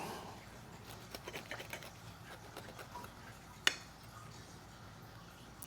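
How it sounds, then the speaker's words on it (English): A knife cuts open a warm Hong Kong pineapple bun: soft crackly scraping of the crisp sugary top, faint and close, followed by one sharper knock as the blade meets the board. "So I'm just cut the pineapple bun open."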